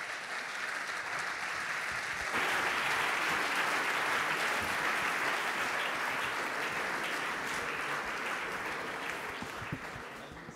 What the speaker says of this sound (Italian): a voi di accoglierlo con un applauso